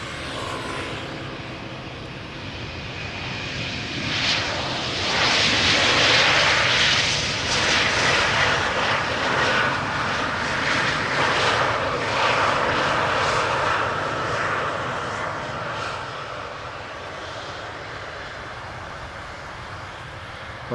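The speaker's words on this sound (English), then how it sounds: "This is KLM flight 1420, arriving from Nantes, Embraer 190" A KLM Embraer 190 jet lands at Amsterdam Schiphol Airport, its engine roar swelling to a broad, rushing peak and then easing into a steady, fading whoosh over about twenty seconds, with no talk.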